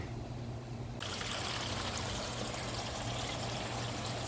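Water filling a water softener tank during a DIY rebuild, a steady rushing pour that swells suddenly after a second of quieter hiss, then runs continuously at even strength.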